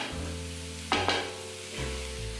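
Vegetables for ratatouille sauté in a pan with a soft, quiet sizzle, broken by a couple of short scraping stirs partway through, with no voices.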